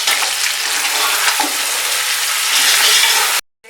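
Spices and garam masala frying in hot oil for mutton yakhni pulao give off a loud, steady sizzle with occasional stirring scrapes, cutting off abruptly near the end.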